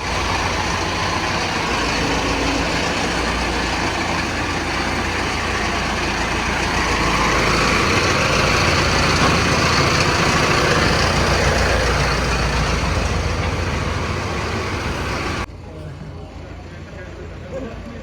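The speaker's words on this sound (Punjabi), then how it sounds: "ਲੋ ਵੀ ਟਰੈਕਟਰ ਆ ਗਿਆ" A Mahindra Arjun 655 DI CRDI 4x4 tractor arrives with a loud, continuous diesel rumble that swells midway and then drops off sharply near the end, while people's voices mix in over it.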